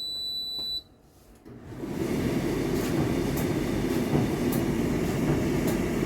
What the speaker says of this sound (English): It's running, but it's small. It's not the huge noise, but small noise coming from the beginning also.